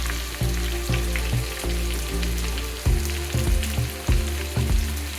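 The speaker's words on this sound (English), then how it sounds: "don't forget to saute your chicken on the other gas while you're frying your masala here" Chicken sautés in a pan over a gas flame, sizzling steadily with rhythmic scraping stir strokes at a regular pace, close and clear with no talk.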